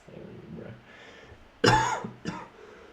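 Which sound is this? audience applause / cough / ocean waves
cough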